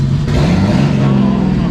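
A Barra-engined drift car, running on five cylinders, idles and revs loudly close by. Its exhaust gives a steady, throaty drone throughout, with a voice partly buried beneath it.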